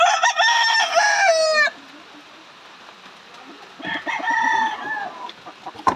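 A rooster crows loudly close by, followed a couple of seconds later by a second, slightly softer crow with faint clucking between.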